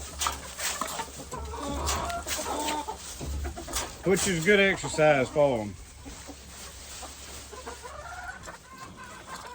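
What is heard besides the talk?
gamefowl chickens clucking while scratching through straw for feed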